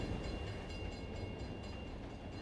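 A train rumbles steadily through a station in a Planet Coaster 2 theme park, a dense, low, continuous rolling noise with faint rhythmic clicks and no talking.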